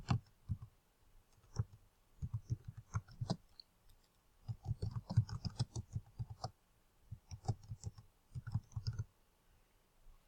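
Quiet bursts of clicky keystrokes on a computer keyboard while typing a database entry, coming in short rapid runs separated by brief pauses, close and alone.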